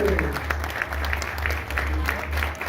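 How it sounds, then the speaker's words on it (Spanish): Applause at a museum anniversary celebration, steady, moderately loud clapping from a gathered crowd over a low hum, with voices mixed in. "Aplausos para él."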